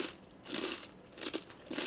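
Close crunching bites into a crunchy keto snack, several quick crisp crunches and chewing, fairly quiet with no talk.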